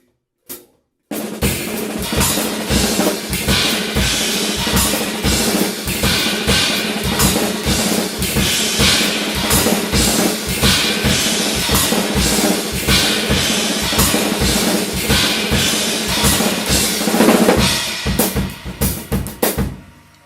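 Drumsticks playing a fast, continuous sticking phrase on a drum kit, dense and loud with rapid, even strokes and accented hits sustained for about twenty seconds without talk.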